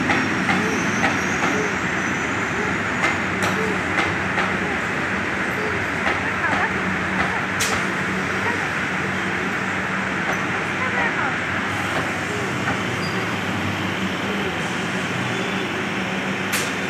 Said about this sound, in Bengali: দক্ষিণেশ্বর মেট্রো।